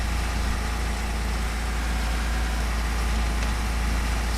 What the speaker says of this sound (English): I know it can drone on a bit, this tractor.